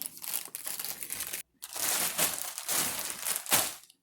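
Someone handles a zippered plastic leftover burrito bag, producing close, continuous crinkling and rustling with one brief pause of silence, and no talking.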